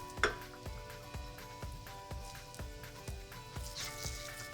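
An egg frying in a pan, a soft steady sizzle with light rhythmic scraping and tapping of a utensil against the pan, fairly quiet and close with no talking.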